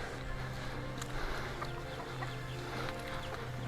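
Chickens cluck in a busy chicken yard, scattered soft calls under a steady broadband rumble of movement, no talking.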